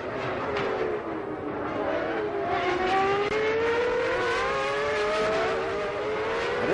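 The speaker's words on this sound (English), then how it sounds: "An interesting mix of engine types. V10s, V8s, even the V12s at Ferrari." Formula One race cars with a mix of V10, V8 and Ferrari V12 engines scream at high revs during a race, the engine notes rising and falling continuously as the cars pass, loud and sustained with no talk.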